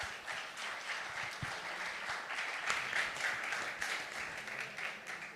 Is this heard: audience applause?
yes